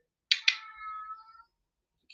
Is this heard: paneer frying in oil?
no